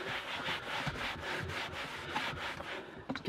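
A damp viscose cloth wipes over a leather car seat after water is sprayed on, making steady, close rubbing and swishing strokes in a continuous rhythm with no talking.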